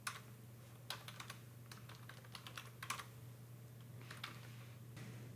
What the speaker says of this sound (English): you simply start typing a bunch of text